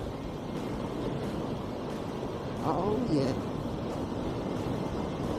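Broadband rushing wind buffeting the microphone, steady and loud throughout, with a brief spoken remark in Filipino in the middle.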